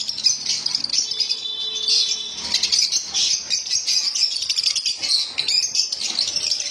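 Yellow and lutino lovebirds in a sale setup chirp constantly, a dense overlapping chatter of high, shrill calls from many birds close by, with no talk.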